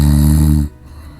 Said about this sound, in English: Then Daddy Mummy started to snore.